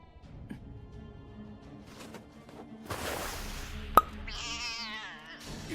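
A cat meows and caterwauls in a wavering, drawn-out cry, preceded by scattered thumps and a sharp smack, fairly close.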